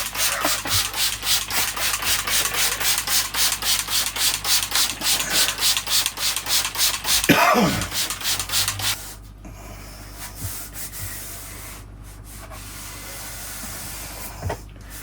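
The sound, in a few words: scraping moss off bonsai soil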